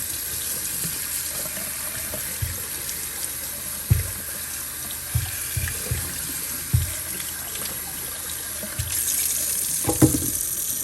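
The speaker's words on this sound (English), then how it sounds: "I really want to soak that where the oil was on there. I want to soak that down pretty good" Tap water runs over a washable air filter in a sink where oil had soaked it, a continuous splashing stream with scattered low knocks and thumps as the filter is handled.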